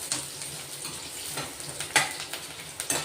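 Onions sautéing in a pan for a sprouted moong breakfast dish: a soft steady sizzle with a few sharp clinks of a spoon against the pan, close and alone without speech.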